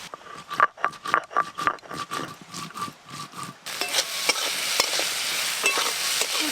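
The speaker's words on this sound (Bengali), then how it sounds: "কুচো চিংড়ি মাছগুলো আমি লাল লাল করে ভেজে নিয়েছি" Small shrimp frying in a pan, first a run of rhythmic stirring scrapes with light sizzling, then a steady loud sizzle and hiss as the frying continues, close and without speech.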